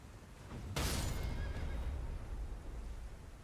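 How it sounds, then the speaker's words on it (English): A horse neighs in Elden Ring, a sudden loud whinny with a burst of noise, then fading rumble and ambient hiss, with no talk. "Get off your horse"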